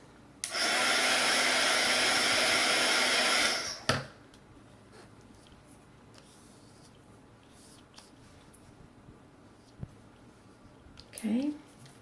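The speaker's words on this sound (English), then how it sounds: "And then I'm going to bring in my heat gun. Heat it up" A heat gun blows a steady, loud rush of hot air for about three seconds while working on handmade flower tags. It cuts off with a clunk, and a quiet room with small handling noises follows.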